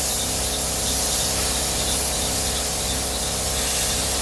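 Spray gun laying thin coats of paint on a 1938 SS Drophead 3½ Jaguar under restoration, a steady close hiss held without a break throughout.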